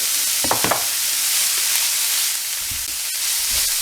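Peppers, bandanya (culantro) and carrots sauté in a pan for pepper roti, a short, steady close hiss of frying with a few clattering stirs near the start and end.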